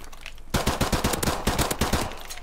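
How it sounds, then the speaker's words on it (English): Rapid bursts of gunfire from the video game Modern Warfare Remastered, loud and close, with rounds cracking in quick succession for about two seconds after a short quiet start. "Hearing lots of sniper bullets go off."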